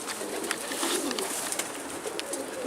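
Soft, low pigeon coos murmur under a busy background of rustling and flutters, fairly faint and continuous.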